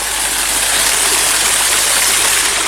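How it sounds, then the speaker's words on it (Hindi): Water gushes and splashes out from between rocks along a mountain walk in Hunza, a loud, close, continuous rushing flow with no voices over it. "ये पत्थरों में से पानी आ रहा है"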